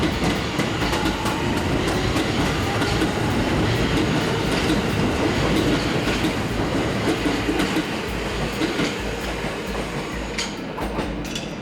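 A Tokyo Metro Marunouchi Line subway train runs through Yotsuya Station, a loud, close, sustained rumble with rattling wheels that slowly eases toward the end, with no voices.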